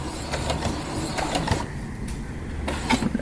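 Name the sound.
sewing machine stitching and back stitching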